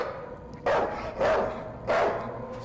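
A dog in a horror video game gives three loud, spaced barks close up, each with a short ringing tail, over a low steady background hum.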